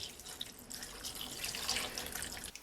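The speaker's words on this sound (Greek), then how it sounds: "Θα προσθέσω και ένα ποτήρι νερό." A glass of water pours into a cooking pot, a soft continuous splashing and trickle heard close and fairly quiet, set outdoors under a shelter.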